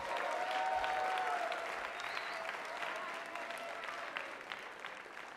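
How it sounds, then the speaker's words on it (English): An audience at a TMI awards ceremony gives sustained applause, a steady wash of many hands clapping at moderate distance, with a faint voice or tone drifting over it early on. "Stand and accept our applause."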